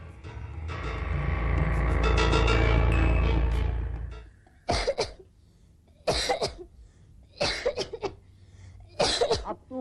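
A woman coughing indoors while making dough, first a long harsh sustained coughing fit, then four separate short sharp coughs spaced a second or two apart.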